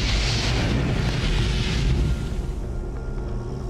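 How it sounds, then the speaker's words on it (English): A gas explosion tears through an offshore oil rig, a loud sustained roaring boom with heavy low rumble that slowly eases off, with no voices present. "A spark suddenly ignites the escaping gas, and an explosion rips through the rig."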